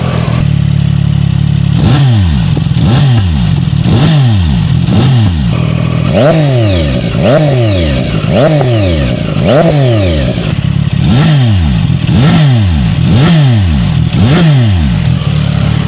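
Motorcycle engines, a CFMOTO 675SR and a ZONTES 703RR, are revved repeatedly in a loud close series of sharp throttle blips, each rising and falling in pitch, with a regular rhythm and no pauses.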